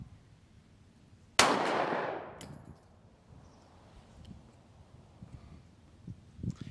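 A single sharp gunshot from a compact 9mm pistol, S&W CSX, Hellcat or P365 class, cracks loudly and decays into a short ringing echo at an outdoor range, followed by quieter handling noises and faint background sounds.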